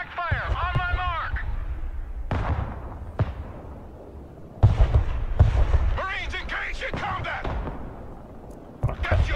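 Booming artillery and gunfire from the Broken Arrow video game, heavy blasts arriving in several sudden loud bursts with rumbling tails, mixed with radio-style voices talking and game chatter between shots.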